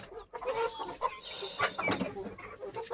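A hen clucks in short bursts while a chick peeps thinly, both close by and moderately loud amid steady outdoor background noise.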